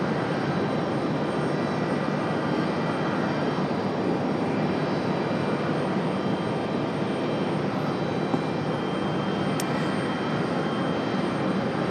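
Jet engines roar steadily as an airliner takes off from runway 23 right at Raleigh-Durham International, a continuous loud broadband rumble held throughout the takeoff roll.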